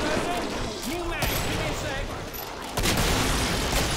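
Chaotic Killing Floor co-op firefight with booming gunfire and a hip-fired shot amid dense, continuous game noise, with voices talking over the action.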